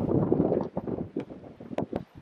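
Strong wind gusting at 25 to 30 knots on a sailboat at sea during a single-handed Transpac race, heard as loud, buffeting rushes against the microphone with irregular bursts and short dips.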